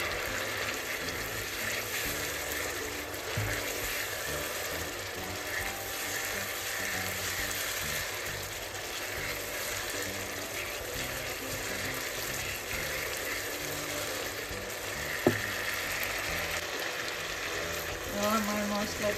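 Ground spice masala with panch phoron sautéing in a pan for a sweet, sour and spicy raw mango pickle, giving a steady, close sizzle throughout with faint scraping and a single sharp clink near the end.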